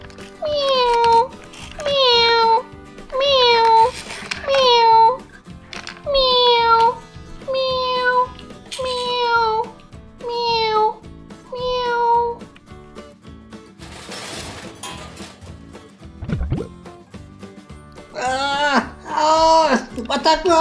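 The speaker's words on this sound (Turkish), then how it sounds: "Hey, o da ne? Bir kedi sesi." A cat meows over and over in a steady series of high, drawn-out cries, then a pause with some rustling before more meowing returns near the end.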